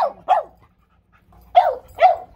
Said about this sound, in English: Quit your barking.